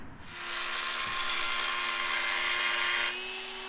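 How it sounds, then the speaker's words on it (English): A Dremel rotary tool cutting slots into cylinder head studs on a BMW 540i V8, a steady high-pitched whine running close and loud for about three seconds before it drops away. "we're going to cut some slots in it with the Dremel"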